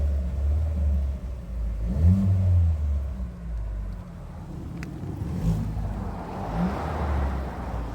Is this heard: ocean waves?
no